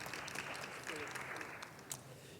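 An audience at a talk on in-situ choreographic writing applauds the translator, a faint, distant, even patter of clapping that continues steadily throughout.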